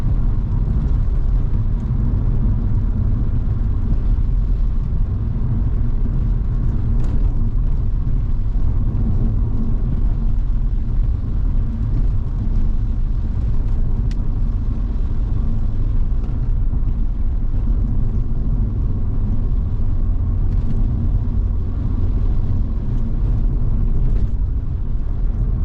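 A Cadillac BLS 2.8 V6 turbo with a gearbox fault runs steadily on test, producing a continuous low engine rumble and drone at a constant level, with no voices over it.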